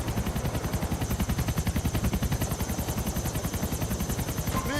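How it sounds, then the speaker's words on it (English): Helicopter from the GTA IV video game, its rotor thumping in a steady loud rhythm with a high whine on top, close and continuous throughout with no talk. "You can Step A to climb onto the chopper."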